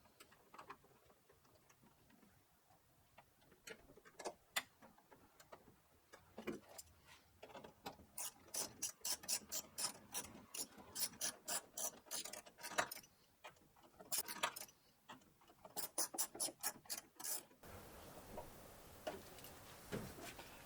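Ratchet driving tail light bolts back in on a Jeep Gladiator: close, rapid clicking in uneven bursts, with brief pauses between runs of ratcheting strokes.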